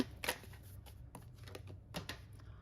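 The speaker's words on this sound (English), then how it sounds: "Shuffle a little bit more." A few quick riffles of tarot cards being shuffled close by, sharp papery flicks separated by brief pauses, fairly quiet.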